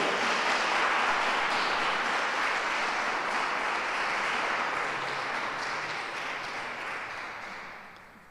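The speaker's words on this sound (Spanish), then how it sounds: "Un fuerte aplauso" Loud, sustained applause from an audience at the presentation of a new online theology study course, a dense wash of clapping that holds steady for several seconds before tapering slightly near the end.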